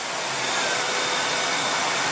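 A 2006 Dodge Dakota engine runs at raised revs, a steady loud broadband whine and rush held evenly close to the microphone with no talking.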